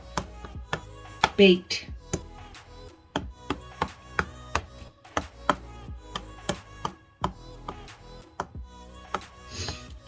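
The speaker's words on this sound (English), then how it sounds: "we're going to get a fork and we're going to punch holes in them so that it gets cooked properly" A fork jabs holes into pie pastry for a cheese and onion pie, a string of sharp close taps in uneven rhythm, with brief speech in between.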